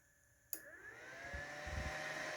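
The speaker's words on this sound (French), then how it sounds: "J'entends le ventilo tourner." The cooling fan of a CNC3018 laser engraver switches on with a sharp click and then spins up into a steady, close whirring hum that holds on without any talk.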